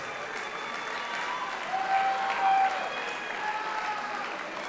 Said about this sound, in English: How about a round of applause for all the juniors?